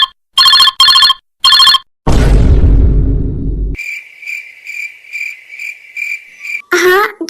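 A phone rings with an incoming call, a bright electronic ringtone sounding in short repeated bursts, then a sustained trilling tone with a chirping pattern, loud and close.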